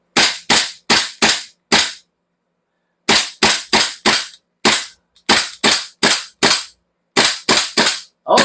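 A gas-powered replica pistol fires a series of sharp, loud, close cracks in quick bursts of three to five shots separated by short pauses.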